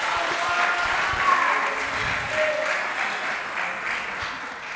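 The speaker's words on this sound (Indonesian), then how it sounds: "Boleh tepuk tangan yuk" Applause from an audience at a Ramadan healthy-food education event, a dense, sustained wash of clapping holding steady for several seconds, with faint voices murmuring underneath.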